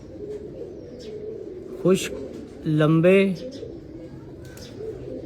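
A 41-number pigeon gives a short, low, throaty coo at close range. Someone speaks over it throughout.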